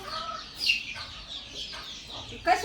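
Desi chickens with newly hatched chicks, soft high peeping and faint clucking nearby, low in level and broken into short calls.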